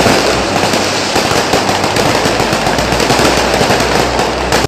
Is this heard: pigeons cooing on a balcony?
no